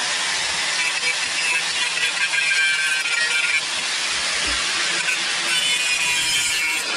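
An angle grinder cuts into a crack in an aluminium alloy wheel during a TIG repair, giving a loud continuous bright grinding whine that holds steady from start to finish with no talking.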